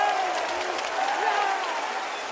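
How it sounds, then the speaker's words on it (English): A packed arena crowd cheers and applauds during a CS:GO grand final between FaZe and Heroic at the Royal Arena, a loud, sustained roar filling the space with no break. "Oh, the crowd is on their feet."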